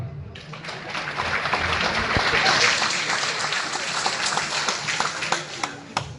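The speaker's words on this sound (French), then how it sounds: "vous pouvez les applaudir." An audience at an evening club label award ceremony applauds the children, a full, sustained burst of clapping with sharp individual claps standing out near the end and some voices mixed in.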